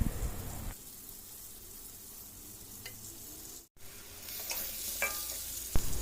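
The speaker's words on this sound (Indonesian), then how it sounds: "Ini udah dipanaskan minyaknya ya, waktunya untuk goreng menggoreng." Tempeh frying in hot oil: steady sizzle with crackles and a few sharp pops, close by, no voices; a brief dropout midway before the hiss resumes, brighter and louder.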